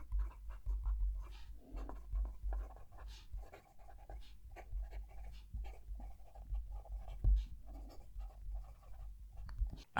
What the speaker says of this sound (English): I love writing with this pen.